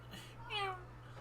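Short, bright meow from Wagahai, a cat in The Great Ace Attorney 2, rising then falling in pitch, heard once and fairly close over a low steady hum.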